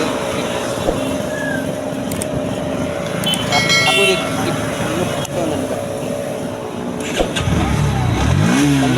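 Bajaj Pulsar NS 125 BS6 motorcycle engine starting and settling into a steady idle, close and fairly loud with a brief rev near the end.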